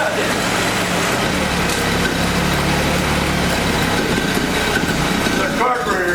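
A small engine with a carburetor in need of work runs and idles steadily and loudly close by, a continuous low hum and rattle throughout with no clear changes in pace.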